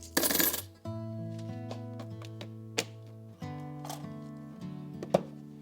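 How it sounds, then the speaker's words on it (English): Coins dropping into a small box or bowl, several separate metallic clinks spread over a few seconds, close and fairly soft, over a tonal background. "Also keep a small box or bowl for collecting coins."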